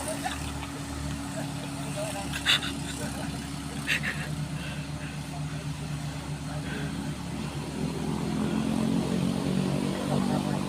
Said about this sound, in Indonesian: Truk Fuso bermuatan besi, nampaknya berat sekali ini bosku.